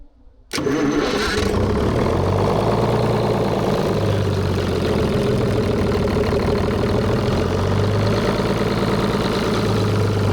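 A Detroit Diesel 6-71 engine bursts into life after a brief crank, then settles into a loud, steady, close-up idle with a rough rhythmic diesel clatter.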